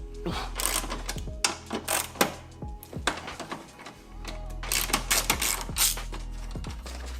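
Close ratchet or socket work loosening the 10mm bolts on a battery bracket of a 2021 Toyota LandCruiser 200 Series during a dual battery install: bursts of rapid metallic clicking, stopping and starting again, with no talk.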